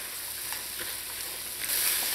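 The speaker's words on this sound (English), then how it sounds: "Just want this to fry up in here for about 2 to 3 minutes before adding any liquid to help it cook." Split peas and parboiled brown rice frying in a pot while being stirred, a soft steady sizzle with faint scraping, rising a little louder near the end.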